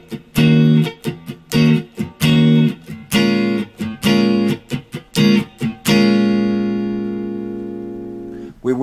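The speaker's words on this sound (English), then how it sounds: "Throughout the entire song, we'll be doing one strumming pattern, and it's going to sound like this." A guitar plays the strumming pattern for a song, a run of loud, choppy strums with short muted gaps, ending on a long ringing chord that fades out.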